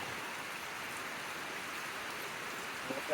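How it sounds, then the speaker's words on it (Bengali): Heavy rain pours steadily in hilly country, a dense, even hiss of drops on surfaces that stays constant throughout, with a faint knock near the very end. "অনেক বৃষ্টি হচ্ছে, এই যে দেখুন প্রচুর বৃষ্টি হচ্ছে।"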